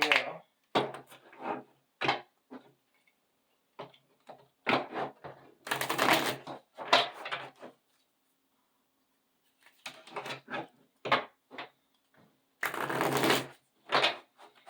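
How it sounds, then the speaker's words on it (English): Tarot cards are shuffled and drawn by hand in a series of crisp riffling bursts and soft slaps, close and fairly quiet, separated by short pauses and a longer gap partway through. "And we're going to draw 3 cards."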